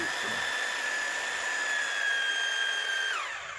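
A Ryu RRH 26 rotary hammer drill on its concrete setting runs steadily with a loud high-pitched whine and hammering buzz, then drops in pitch and winds down near the end.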